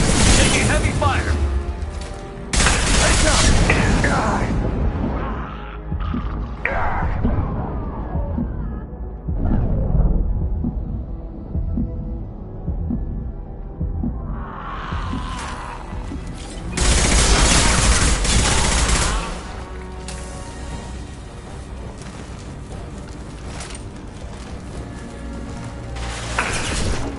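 Heavy gunfire from the Mass Effect 2 video game comes in dense, loud bursts with booms and cracks, easing briefly in the middle before picking up again, with voices talking over the combat.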